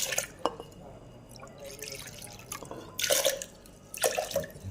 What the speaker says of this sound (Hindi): अब मैं थोड़ा सा पानी डालूंगी,